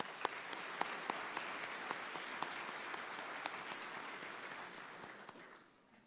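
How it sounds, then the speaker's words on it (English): Audience at a law enforcement training academy graduation ceremony giving a round of applause, a faint, distant wash of clapping with a few sharper individual claps standing out, dying away at the end. "I want to give them a big round of applause"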